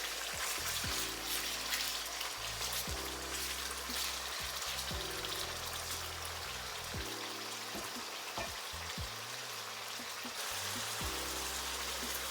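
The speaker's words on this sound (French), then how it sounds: "I'm going to add my chicken and then fry." Steady crackling sizzle of chicken frying in hot oil, continuous and close, with a few low thumps and clatters from pan handling.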